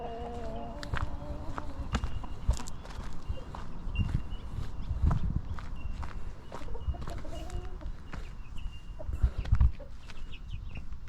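Chicks cluck and peep intermittently near the microphone in a coop over a steady rustling background, with occasional soft thumps and scattered bird calls.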